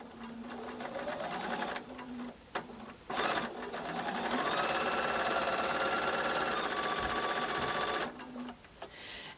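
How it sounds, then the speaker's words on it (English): A domestic sewing machine chain-pieces quilt block fabric pieces with steady, fast mechanical whirring in several runs, each broken by brief pauses, close and loud with no talking. "putting them right sides together, press your foot down and sewing"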